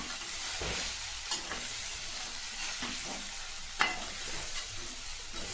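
Chopped dill greens with salt and moth bean dal are stirred in a frying pan, a continuous close sizzle marked by occasional scrapes and knocks of the spoon on the pan, with no talking.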